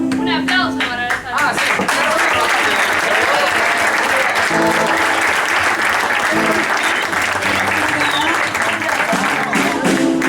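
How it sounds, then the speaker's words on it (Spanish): Loud, dense audience applause at a farewell singing showcase after the young trumpet, piano, guitar and drum players are introduced, with a whoop and a few voices rising through it. "Un aplauso para esa."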